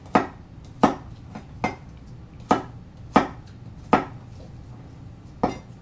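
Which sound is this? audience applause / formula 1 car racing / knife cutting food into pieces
knife cutting food into pieces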